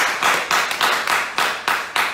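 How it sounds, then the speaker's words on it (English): A crowd at an outdoor political rally claps in a rhythmic round of applause, with loud bursts repeating about every quarter second, close and steady, without talk. "So let's give them a round of applause."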